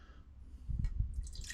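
A cup of water is poured into a small camping pot next to an MSR Pocket Rocket Deluxe stove, heard as a short, soft splash and drip building into a brief trickle, quiet and close.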